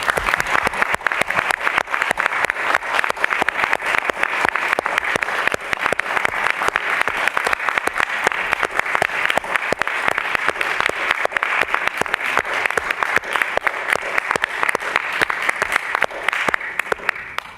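Audience at an art museum lecture applauding a retiring colleague, sustained dense clapping from a large crowd that carries on evenly for over fifteen seconds, close and loud with no talk over it.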